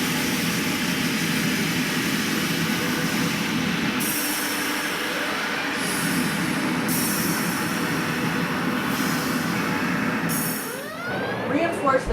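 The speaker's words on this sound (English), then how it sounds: "Activate tractor beam." A sci-fi starship tractor beam activates as a loud, continuous rumbling drone with bursts of bright high whooshing layered on top, ending in rising swept tones near the close.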